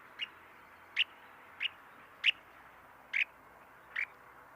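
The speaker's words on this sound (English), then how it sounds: "a repeated T sound is given if the bird is disturbed when it's resting" A resting snowy plover, disturbed, gives six short, sharp high call notes spaced about a second apart, faint and isolated against a quiet background.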